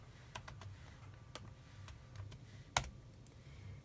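Sparse keystrokes on a computer keyboard as a command is typed, a handful of light taps spaced irregularly with one sharper final press, quiet over a low steady hum.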